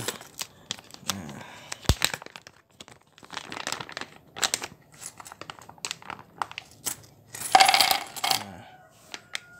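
Old Indonesian 1000 rupiah coins from 2000, bearing the oil palm emblem, are tipped out of a plastic bag, giving a sequence of close metallic clinks and drops mixed with crinkling plastic in irregular bursts.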